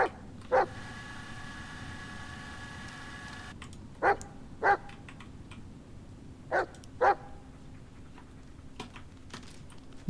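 A dog in the Blair Witch video game gives short, sharp single barks spaced across several seconds, fairly near, over a low steady ambient hum with faint clicks and no talk.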